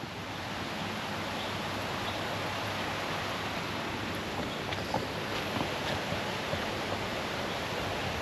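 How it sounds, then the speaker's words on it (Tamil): Strong rush of water flowing near the power house of Sholayar Dam in the Anamalai Tiger Reserve, a steady broadband roar like a waterfall, loud and continuous throughout with no talk. "இங்கே வந்து பார்த்துட்டிங்கன்னா சூப்பராக தண்ணி வந்துக்கிட்டு இருக்குது"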